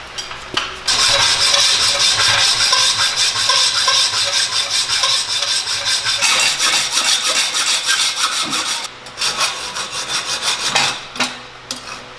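Cutting and grinding a Yamaha R6 motorcycle exhaust mid pipe to fit an M4 slip-on, a loud continuous abrasive rasp with brief pauses near the end, no talking.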